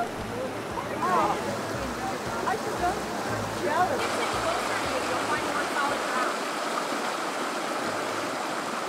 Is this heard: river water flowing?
yes